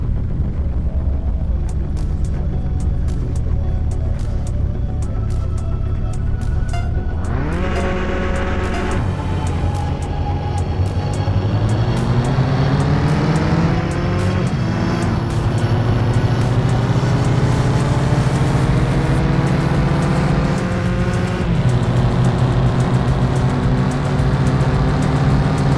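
A car in the game Mon Bazou launching from a standing start, its engine revving up through rising gears in a long, loud, steady climb, with a voice briefly talking underneath.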